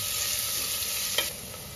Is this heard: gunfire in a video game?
no